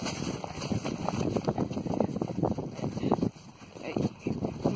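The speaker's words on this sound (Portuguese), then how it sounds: "O vento fazem barulho." Wind buffets the microphone outdoors during a horseback ride by a waterfall, making irregular low rumbling gusts that rise and fall and dip briefly, with a voice talking at times.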